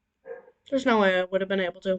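A dog barks and yips in a few quick bursts close by, with a person talking through and between the barks.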